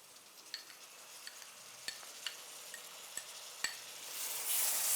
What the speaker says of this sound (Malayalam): അത് നന്നായിട്ട് വഴണ്ട് കഴിയുമ്പോൾ നമ്മൾ തക്കാളി ആഡ് ചെയ്യും.